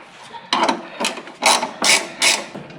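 A wrench ratchets in several short bursts, tightening a sway bar bolt on a jacked-up Jeep Grand Cherokee during a suspension and shock job, each burst of clicking close and fairly loud.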